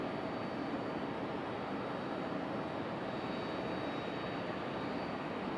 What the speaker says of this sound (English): There's our Republic Airways on the move.